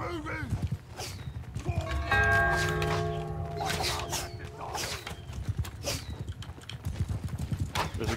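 Horse hooves clip-clopping in a medieval battle in the video game Bannerlord, with many hoofbeats pounding in an uneven rhythm, occasional thuds and a faint whinny, under game music and overlapping talk.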